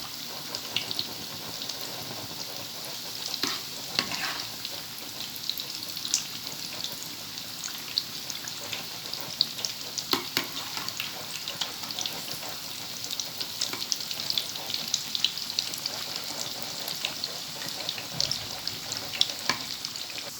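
Gram flour pakoras sizzling steadily in hot oil as they are turned over, a dense crackling hiss with occasional sharper pops and clinks, close and continuous.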